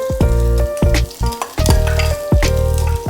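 Sliced onions dropped into hot coconut oil with fennel seeds, loud close sizzling and frying with repeated stirring scrapes and clinks of a spoon against the pan, no talk.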